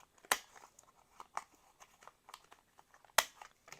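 Scissors snipping and rounding the corners of journal cards cut from old book pages, with two sharp crisp cuts standing out among softer small paper snips and crinkles, close and fairly quiet, no talking.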